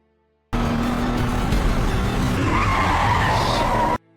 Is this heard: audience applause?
no